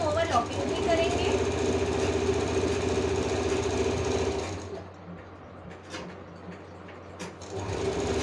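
A sewing machine stitches fabric in a continuous mechanical whir for about four and a half seconds, then stops, leaving quieter room noise with a few clicks; a voice speaks over it.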